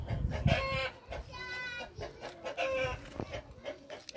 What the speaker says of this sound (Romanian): Bă, da, cântă cocoșul ăla.